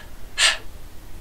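A voice imitates a St. Bernard dog panting with one short, breathy huff, close and fairly loud against quiet background.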